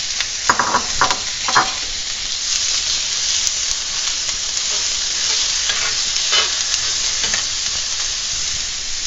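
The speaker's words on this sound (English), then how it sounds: "Our griddle is hot, so we're going to go ahead and add the onions" Onions and garlic sizzle loudly in olive oil on a hot griddle, a dense, close hiss broken by a few quick scraping strokes near the start, with no talking.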